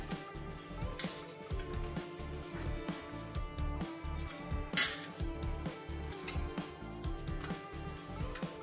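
Spinach being mixed with salt and spices in a bowl, soft rustling and stirring with a few sharp clinks of a spoon against the bowl, close and fairly quiet, no talking.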